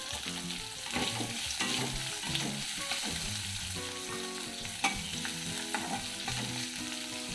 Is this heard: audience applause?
no